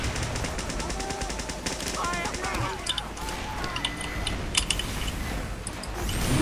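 An enemy sentry turret in Team Fortress 2 keeps up rapid, dense mechanical gunfire through the whole stretch, with other game noise and voices mixed in.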